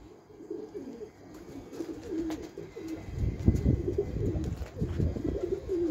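Low, soft pigeon coos repeat in a throaty rolling pattern against a steady background hiss, growing denser and louder toward the end.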